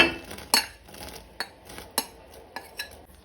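Poha being stirred into coconut milk heating in a pot, with a spoon scraping and clinking against the metal in several sharp knocks amid soft swishing, close and fairly quiet.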